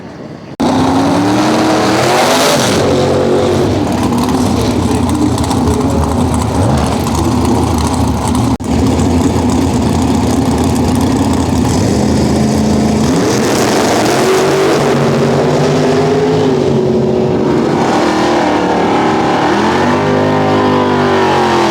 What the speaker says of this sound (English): All right, you can hear the cars still. That's the drag strip right there